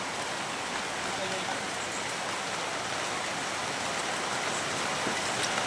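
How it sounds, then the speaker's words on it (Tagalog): A sudden heavy rain downpour in the countryside, a loud, unbroken wash of hissing drops that fills the whole stretch evenly. "Ulan guys. Biglang buhos."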